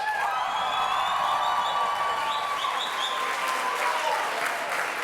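A live comedy crowd at a Valentine's Day Bachelor parody show gives a sustained round of applause, a steady wash of clapping with a few cheers and voices threaded through.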